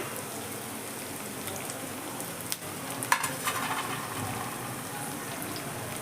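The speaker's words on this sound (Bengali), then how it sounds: "এবার পেঁয়াজটা আমার ভাজা হয়ে গেছে এর মধ্যে আমি দিয়ে দিয়েছি চার পাঁচ কয় রসুন" Garlic cloves and onion fry together in oil in a pan, a steady soft sizzle that crackles throughout with a few brief clinks and stirring bumps partway through, no voices present.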